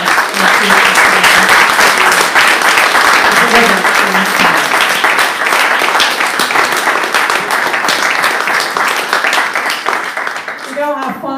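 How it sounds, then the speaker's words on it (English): Loud, sustained audience applause at an automation tech panel event, dense clapping filling the room for about ten seconds with voices murmuring underneath before it fades. "we should give a very big applause to the panelists"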